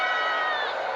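A cricket crowd at a Nepal Premier League match roars and applauds in a dense, continuous wash of cheering, with a commentator talking over it throughout.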